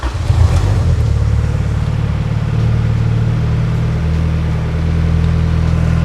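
The turbocharged engine of a 1992 Honda Civic EG hatchback, fitted with a push-start button, fires up and settles into a steady, loud, low idle rumble, close by with no talking.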